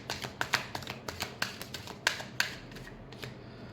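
Tarot deck getting a final shuffle, a quick close series of crisp card taps and flicks at an uneven rhythm, with no talking.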